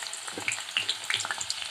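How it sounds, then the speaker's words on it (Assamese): Onions sizzle in hot oil in a kadai while chicken biryani is being prepared. Steady crackling frying is heard up close, with sharp spitting pops scattered through it and no talk. "এয়া পিঁয়াজ দিছোঁ"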